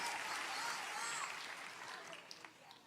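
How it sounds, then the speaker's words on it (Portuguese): A church congregation breaks into applause during a Portuguese-language sermon, a dense wash of clapping that stays steady and fairly loud throughout, easing slightly toward the end, with a few sharper claps standing out near the close. "Vamos aplaudir."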